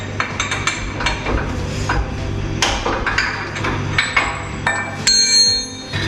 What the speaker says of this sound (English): Let's open these bolts.